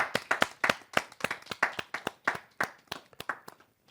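A small audience claps to welcome a poet at a Hindi poetry gathering, with sharp, distinct hand claps in an uneven run that thins out and fades near the end.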